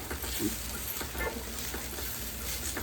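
Coriander and turmeric powder sizzle and fry in a pan for a papaya side dish, a soft steady crackle with faint stirring scrapes, close and fairly quiet, no talking.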